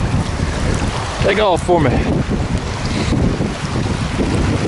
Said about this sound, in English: This wind is something else